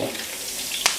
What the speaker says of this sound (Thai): นำกล้วยลงไปทอดได้เลย